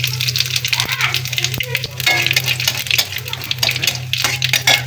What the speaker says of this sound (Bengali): এখন হলো ডালে ফোড়ন দিব নিরামিষ ডালে হলো সবসময় জিরে তেজপাতা শুকনো মরিচ ফোড়ন দিলে ভালো হয়